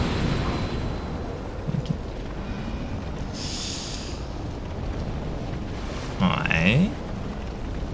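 An enemy explodes in Dark Souls II: Scholar of the First Sin, a brief hissing burst of game noise over a low rumbling background, with a second rougher flare a few seconds later; someone talks quietly at points.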